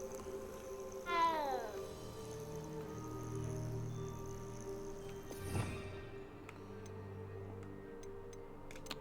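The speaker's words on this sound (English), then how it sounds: "So you're just a cat." A cat meows in Hogwarts Legacy, a short falling cry near the start and a second one in the middle, heard over steady game music with a ticking pattern toward the end.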